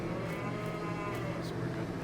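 Cows mooing on a Farming Simulator 22 farm, a low sustained bellow that fills the short moment, moderately close over a soft steady ambient hum.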